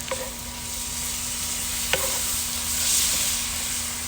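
Mushrooms being stirred in a cast iron pan on an outdoor grill, with a steady close sizzle and two brief scraping clicks of the utensil against the iron.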